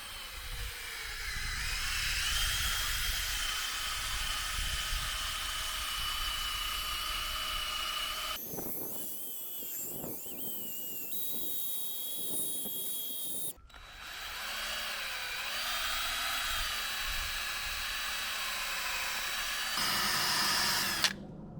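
A polishing pad machine buffs an oxidised, foggy car headlight with a steady high-pitched whine, near and loud, changing pitch with pressure and pausing briefly in the middle.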